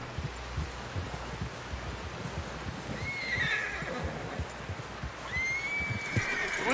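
A horse in Red Dead Redemption 2 whinnies twice, with shrill rising neighs about midway and near the end, over a steady run of hoof clip-clops and rustling, moderately loud with no talking.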